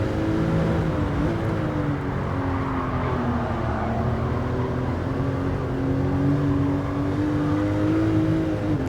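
A Porsche race car in a VR racing game accelerates hard up through the gears, its engine note loud, close and continuous, rising and shifting with each change and never pausing.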